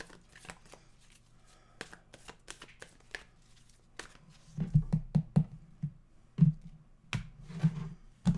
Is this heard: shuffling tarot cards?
yes